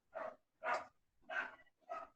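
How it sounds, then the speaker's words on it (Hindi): A dog barks four times in an evenly spaced series, each bark a short, full burst at moderate distance, with near silence between them and no talk. "डॉगी भौंक रहे हैं बच्ची।"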